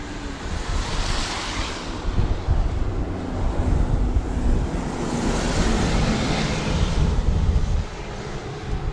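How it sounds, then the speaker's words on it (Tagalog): Strong wind roars and buffets the microphone in a continuous, loud rush, swelling in gusts with no voices, strong enough to pull at an umbrella. "Sobrang lakas ng hangin, tinatangay yung payong ko."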